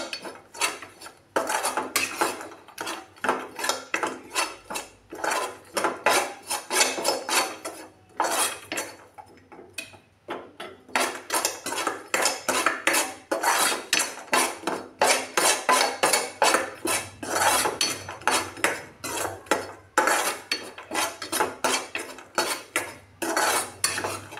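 Garlic and spinach are sautéed in a pan over a low flame, with a spoon scraping and tapping against the pan in a rapid, continuous stirring clatter and a brief pause partway through.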